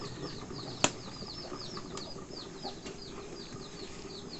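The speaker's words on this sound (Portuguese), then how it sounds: "E a galinha." Chickens at a rural São João bonfire gathering flap their wings with a sharp burst and give soft clucks and chirps over faint outdoor background noise, fairly quiet and at a moderate distance.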